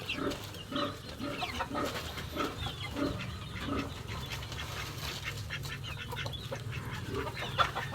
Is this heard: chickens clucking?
yes